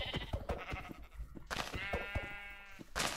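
Blocky Minecraft sheep bleat in a wavering, nasal cry, close and clear, set among quick footstep-like taps and clicks of the game.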